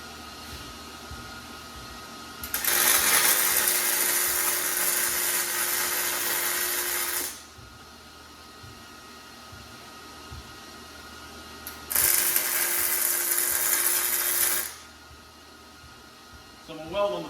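Two bursts of MIG tack welding while fitting a Hilift extreme jack for sheds, each a loud, steady crackling hiss lasting a few seconds, separated by quieter shop hum.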